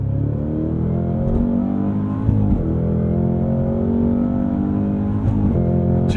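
An AMG GT63 S or Cadillac CT5 Blackwing accelerates hard, engine tone rising in stepped sweeps through quick shifts, loud and continuous from inside the cabin.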